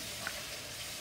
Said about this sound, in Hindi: since the onions are burning we are gonna add a little bit of water